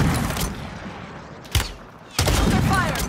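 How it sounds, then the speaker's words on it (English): Video game gunfire rattles through a shooter match, several sharp cracks and bursts against a dense noisy background, with a distinct loud shot midway and another burst near the end. "Under fire! Been shot from a couple of different ways"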